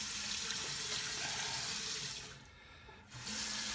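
A bathroom tap runs steadily into a sink for rinsing after a shave, a close, full hiss of flowing water that dips briefly and then resumes, with no talking.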